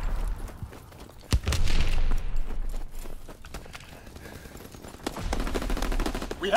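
Gunfire in Call of Duty WWII team deathmatch: sharp close shots and bursts of automatic fire, a loud crack early on, then scattered rapid volleys with footsteps running between them.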